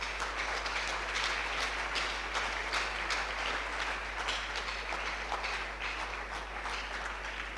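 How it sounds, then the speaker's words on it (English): Seminar audience at an alumni homecoming applauding Dr. Eni Mensah, a steady, dense wash of hand clapping sustained evenly throughout, moderately loud and without a break. "Let's give Dr. Eni Mensah a mighty hand clap of applause"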